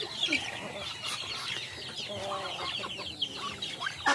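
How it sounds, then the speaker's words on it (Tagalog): A farm turkey gives a busy run of clucks and gobbling calls, close and fairly loud, over faint background noise. "Yan po ang aking turkey."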